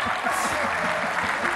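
A studio audience on a Romanian TV game show claps steadily, dense applause filling the short stretch at moderate loudness.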